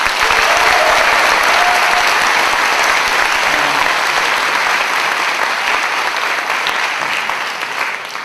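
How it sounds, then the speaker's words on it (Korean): Loud, sustained applause from a lecture audience after a talk on constitutional patriotism, a thick even wash of clapping that fills the whole eight seconds and only eases slightly at the end. "다시 한번 뜨거운 박수 부탁드립니다"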